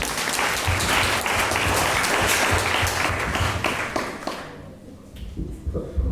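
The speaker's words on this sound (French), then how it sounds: "On va applaudir." Church congregation applauding during a service: dense, steady clapping from a full room that thins out and fades toward the end, with a few scattered claps lingering.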